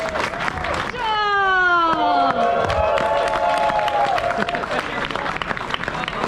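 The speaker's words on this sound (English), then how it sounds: "Big round of applause." Loud crowd applause and cheering at a pro tour posing competition, with a sustained wash of clapping, a rising whoop and shouted voices, and people talking through it.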